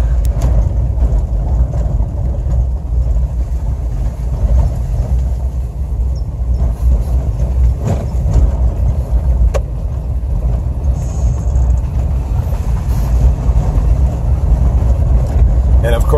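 Car driving on a road in Uganda: a steady, loud low engine and road rumble heard from inside the vehicle, continuous throughout, with small rattles over it.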